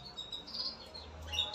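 Canaries and goldfinches chirping in a short, faint burst of high tweets over a soft background hiss.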